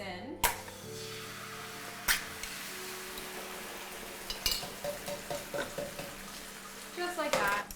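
Tomatoes sizzle as they drop into hot guanciale fat for bucatini amatriciana, giving a steady frying hiss with a few stirring clatters and pan knocks. Speech is heard over it.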